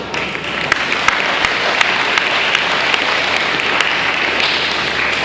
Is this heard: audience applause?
yes